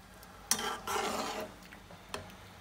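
Salted, garlic-rubbed mutton liver goes into a pot of boiling water with a sudden splash and a short bubbling, sizzling rush, followed by a quieter clink, heard close and alone.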